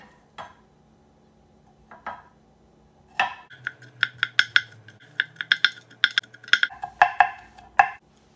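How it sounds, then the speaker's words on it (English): A knife taps on a cutting board while garlic cloves are minced for shrimp scampi, starting with a few sparse knocks, then a quick run of sharp clicks and clinks, close and fairly quiet. "Now I'm going to go ahead and mince the garlic before I put it in the pan"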